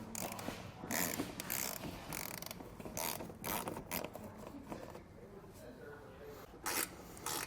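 A 1/4 inch drive ratchet backs out T30 Torx screws from a vehicle's fender liner, giving repeated bursts of close, rapid pawl clicking with short pauses between strokes.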